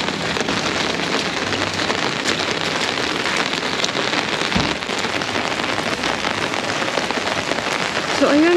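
Heavy, unrelenting rain pours down hard enough to flood the area, a dense, loud, steady hiss of drops hitting surfaces throughout, with a brief low thump near the middle.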